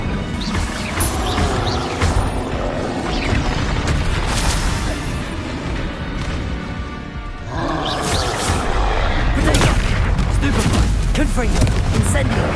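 Hogwarts Legacy on PS5, with Confringo and Bombarda curses going off in a video game: dense, continuous booming blasts and crashing impacts that keep up throughout, swelling louder in the second half, with a voice calling out spells over the battle.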